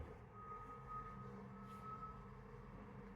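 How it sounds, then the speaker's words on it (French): A garbage truck passes early in the morning, its high reversing beep sounding as one long steady tone over a low engine rumble that holds throughout. "poubelles sont en train de passer"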